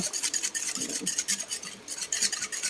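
Spoon stirring sugar into a maja blanca mixture in a pot, with steady rhythmic scraping and swishing strokes at close range and no voices.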